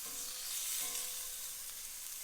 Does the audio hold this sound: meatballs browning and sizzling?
yes